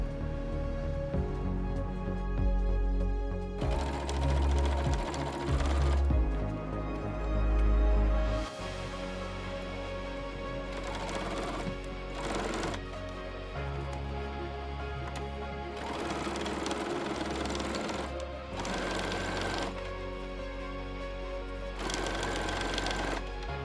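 A sewing machine stitches layers of a quilted round zippered makeup bag with its lining, running in bursts of fast rhythmic whirring and pausing between seams, close and clear with no talking.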